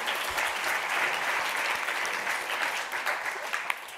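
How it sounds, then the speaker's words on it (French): Sustained applause from a conference audience, dense even clapping filling the room from start to finish with no speech over it. "Je crois qu'on peut l'applaudir."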